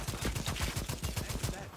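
Rapid submachine gun fire in the co-op shooter Second Extinction, a steady burst of evenly spaced shots rattling continuously, loud and close.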